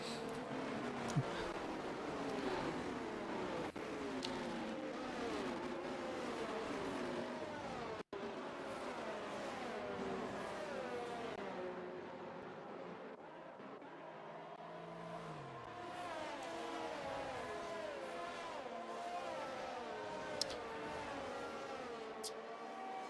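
Race cars in a racing video game at the Japanese Grand Prix, with a safety car out. Engine notes rise and fall steadily for the whole stretch, fairly loud, with several cars blending together and no talking.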